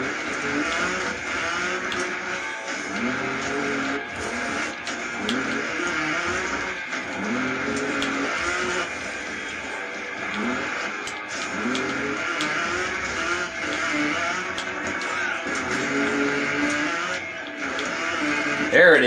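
A motorbike engine in the Trials Evolution video game drones steadily with rising and falling revs. The pitch climbs during throttle bursts, and the engine stays loud throughout while someone talks over it.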